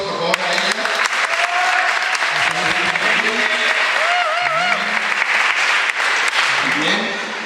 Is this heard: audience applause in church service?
yes